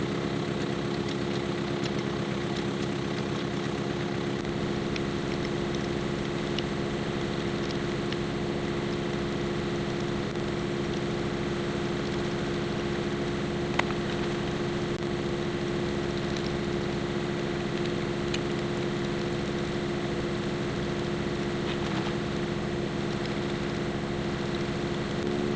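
An air compressor runs while inflating a burned-up telehandler's tire, a steady, loud mechanical drone holding unbroken throughout with no one talking.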